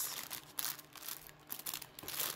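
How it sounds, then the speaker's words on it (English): Plastic bags being opened, with close, soft crinkling and rustling in irregular bursts and no voices. "find a way into this set of plastic bags"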